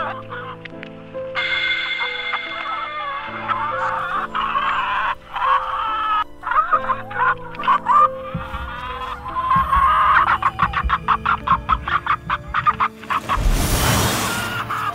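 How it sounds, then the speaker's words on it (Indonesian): Chicken clucking and fowl calls come steadily from close by, said to rise from inside a grave in a cemetery, with a burst of rustling noise near the end. "Suara ayam dari dalam kuburan."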